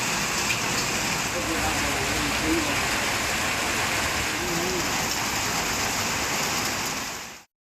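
Heavy night rain in Puducherry pours in a dense, steady hiss that stays loud and even before stopping abruptly, with faint voices beneath.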